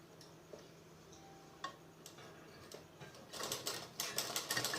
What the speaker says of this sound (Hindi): मैं इधर की साइड सिलाई लगाऊंगी।